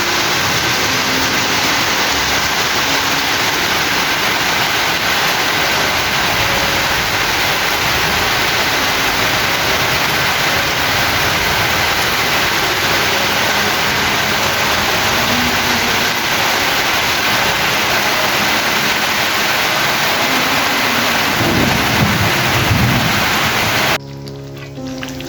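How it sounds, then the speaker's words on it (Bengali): Heavy rain falls outside a bedroom window, a steady, dense hiss that holds evenly for the whole stretch with no clear thunder rolls, ending in a brief dip. "এই যে শুনুন বৃষ্টির শব্দ।"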